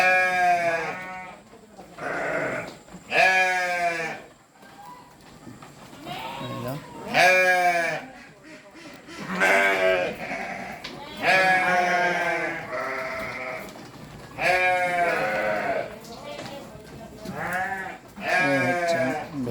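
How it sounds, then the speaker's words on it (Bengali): Sheep and goats on a farm in Malaysia bleat again and again, close and loud, with wavering calls overlapping in an irregular rhythm throughout. "ভেড়ার খামার এখানে ভেড়া আছে এখানে বকরি আছে বকরি অল্প আছে"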